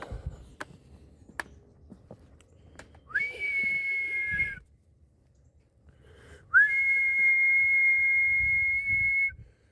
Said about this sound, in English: that standalone whistle where it's just one high pitch, that's her whistle